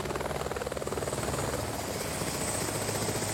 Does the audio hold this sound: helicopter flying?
yes